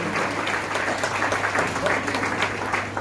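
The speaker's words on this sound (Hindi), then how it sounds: "जोरदार तालियां करें" Enthusiastic audience clapping at a Hindu Ram Katha religious discourse gathering; dense continuous applause with a low steady hum beneath, loud and sustained throughout.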